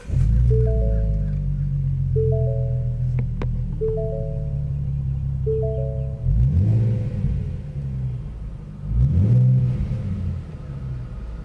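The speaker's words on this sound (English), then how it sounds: "Let's see what a cold start inside the car sounds like." Inside a 2015-2019 Ford Mustang fitted with an SVE axle-back exhaust, the engine cold-starts with a loud low rumble that settles into a steady idle. Two brief revs swell the engine note later on.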